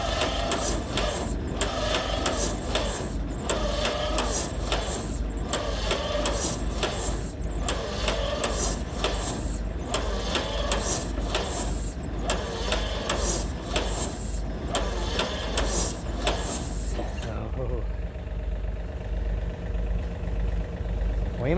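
A John Deere A tractor with a flooded carburetor being cranked over, its engine churning in a steady, loud, rapid mechanical chug for a long stretch before it cuts off abruptly near the end.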